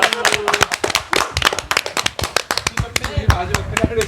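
A small group in a pub claps together in a quick, uneven rhythm of sharp, close claps, with voices talking and calling over the beat.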